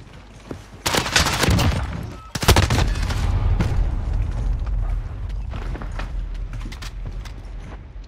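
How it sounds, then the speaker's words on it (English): Shotgun blasts and scattered gunfire in a Call of Duty match, a couple of sharp loud reports followed by a sustained rumbling background of distant shots and mechanical clatter. "you got people shooting with a shotgun fucking miles away"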